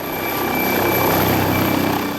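London's Air Ambulance helicopter in flight overhead, a loud continuous rotor and turbine drone with a fast pulsing beat, close and steady throughout.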